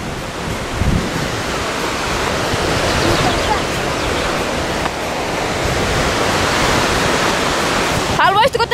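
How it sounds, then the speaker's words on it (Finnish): Roaring river rapids in Kuusamo, a loud continuous rushing wash of water heard close, with some wind buffeting on the microphone and a brief handling noise at the end. "Vähän tuo koski on oikeesti jättimäinen."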